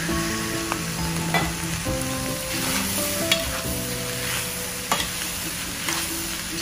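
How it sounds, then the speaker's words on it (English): Brown rice fried rice with tofu, mint and vegetables is stirred in a hot pan, giving a continuous close sizzle broken by several sharp scraping clatters of the utensil, with no voices. "Just give everything a stir."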